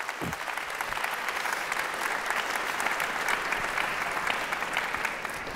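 Sustained audience applause fills a university state-of-the-university address hall, a dense, steady wash of many hands clapping at moderate distance, even in level throughout with no talk over it.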